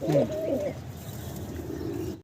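A pair of Iranian Toggi pigeons coo softly nearby, with low throaty warbling calls over a quiet background.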